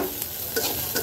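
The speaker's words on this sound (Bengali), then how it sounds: "1-2 মিনিট ভাজা ভাজা করব।" Onion and spices frying in a pan, a close continuous sizzle with a couple of quick stirring scrapes.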